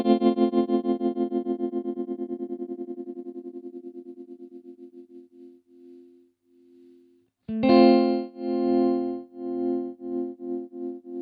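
Guitar through a TC Electronic Pipeline Tap Tremolo pedal: a sustained chord pulses in steady volume swells that slow and fade out, then a fresh strummed chord returns with the same rhythmic tremolo pulsing, no speech.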